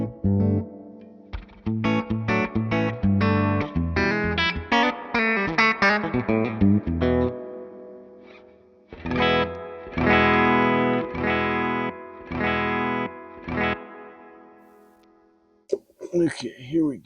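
Electric guitar driven through a Nobels ODR-1 overdrive pedal plays chopped chords in steady rhythmic bursts, loud and close, pausing briefly before a second run of strummed chords.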